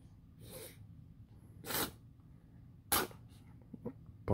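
A cat eating sausage lets out a few short, sharp sneezes, soft but close, with a quiet, snuffly gap between them.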